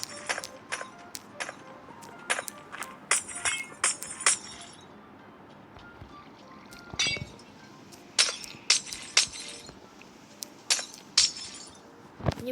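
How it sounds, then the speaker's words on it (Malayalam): Glass blocks smashed with a pickaxe in Minecraft give sharp, bright shattering clinks, one after another in uneven bursts over a quiet background. "ഈ ഗ്ലാസ്സൊക്കെ പൊട്ടിക്കളയാം."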